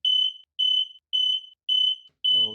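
An X-Sense wireless smoke alarm under test sounds five loud, evenly spaced shrill beeps, each lasting under half a second, with a brief voice entering at the end.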